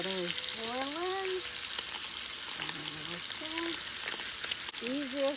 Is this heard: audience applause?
no